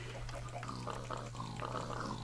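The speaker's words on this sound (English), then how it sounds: "And I'm gonna put some pigs in here." Minecraft pigs placed in a pen, a few low snorting grunts spaced out over a steady background hum.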